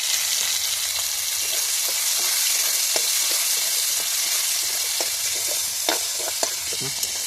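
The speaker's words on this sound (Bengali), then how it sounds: "ওর মধ্যে আমি পেঁয়াজটা দিয়ে দেবো" Onions frying in hot oil in a pan with garam masala, a steady loud sizzle broken by scattered clinks and scrapes of a stirring spoon, with no voices.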